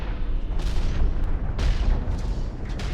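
A mech's cannon in Hawken fires in heavy, booming blasts, with a couple of deep thuds landing close together in a rumbling, bass-heavy mix.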